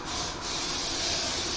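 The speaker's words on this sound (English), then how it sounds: "we use a Wizard double action 2-in-1 deodorizer and freshener" A Wizard double action 2-in-1 deodorizer and freshener aerosol is sprayed close by in one steady, continuous hiss that lasts under two seconds, with no other sound.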